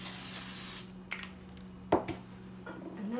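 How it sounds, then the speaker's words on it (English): A short hissing burst of avocado oil cooking spray coats the bottom of a pan, followed by a few light clinks and taps of cookware in a quiet kitchen. "I'm going to spray the bottom of this real quick with some good old avocado spray"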